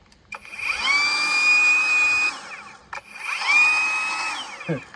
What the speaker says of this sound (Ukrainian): звук болгарки